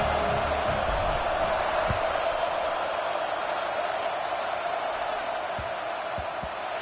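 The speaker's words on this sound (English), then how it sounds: "this crowd is buzzing after that last score" Stadium crowd in a College Football video game, a steady, dense roar that holds level throughout with a few faint thumps underneath and no clear speech.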